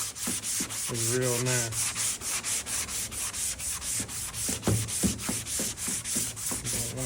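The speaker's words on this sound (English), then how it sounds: "This is 220 on this long block." Steady rhythmic strokes of 220-grit sandpaper on a long block across a Ford F150 tailgate, close and loud, with a few words spoken briefly over the rasping.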